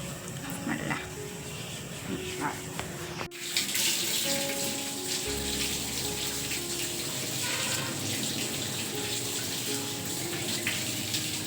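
Tap water runs steadily while a snake gourd is washed under it, a continuous close splashing rush that starts softer and grows fuller partway through, with a few faint background sounds.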